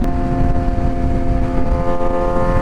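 A motorcycle with an aftermarket exhaust gives a steady, loud engine drone with a deep rumble and strong harmonic tones, running continuously without clear revs or pauses.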